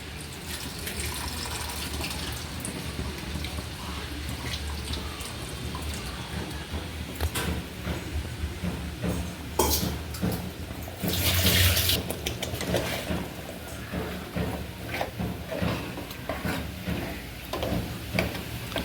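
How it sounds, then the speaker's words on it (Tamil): Tamarind water pours continuously into a pan of fish curry with a steady splashing hiss, briefly louder partway through, close up and without speech. "இப்போ வந்துட்டு நம்ம புளி தண்ணி ஊற்றிக்கலாம்."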